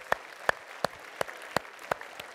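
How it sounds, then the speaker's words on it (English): Seven sharp claps land in a steady, evenly spaced rhythm, like an audience clapping in unison, clear with no talk over them. "All right, give yourselves a big round of applause."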